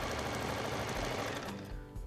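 A sewing machine runs steadily, stitching a strip of fabric, a fast close mechanical whir that stops abruptly near the end.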